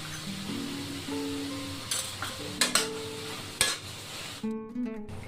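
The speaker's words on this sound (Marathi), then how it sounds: "आता या भाज्या आपण थोडे शिजवून घेणार आहे, जास्त नाही शिजवायच्या, थोडे परतून घेऊ 2-3 मिनिटं." Vegetables being lightly sautéed and stirred in a pan for chapati pizza, with a soft sizzle under scattered clinks and scrapes of a utensil against the pan, several sharper knocks near the end.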